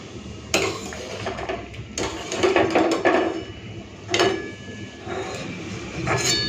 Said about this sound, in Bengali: কাঁকড়গুলো সিদ্ধ হয়ে গেছে এখন আমি জল থেকে ছেঁকে তুলে নিচ্ছি বাটিতে রেখে দেবো